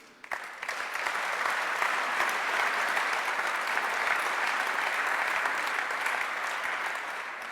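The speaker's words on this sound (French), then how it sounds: "Donc je pense que vraiment, on peut l'applaudir." An audience at an awards ceremony for cycling-friendly cities breaks into applause, the clapping rising quickly after a brief quiet start and then holding dense and steady before easing slightly.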